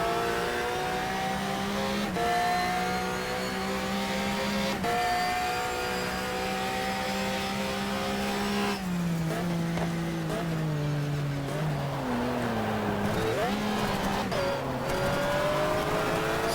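A Formula RSR open-wheel race car in the sim racing game GTR 2 runs near full throttle, with a steady high engine drone that drops in pitch at brief gear shifts and then falls away as the car decelerates.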